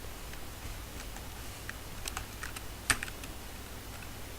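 Keys tap on a computer keyboard while typing in Microsoft Word, with light, irregular keystrokes over a steady background hum and one sharper click partway through.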